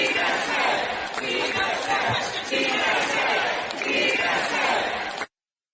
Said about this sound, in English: the crowd went crazy chanting DSA, DSA, DSA